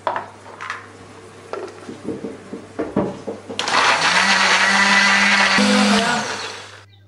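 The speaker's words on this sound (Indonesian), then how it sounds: "Tambahkan sedikit air supaya lebih gampang untuk menghaluskannya." A blender whirs loudly and steadily for several seconds, grinding a thick chili spice paste with a little water, after some clinking and handling sounds in a kitchen.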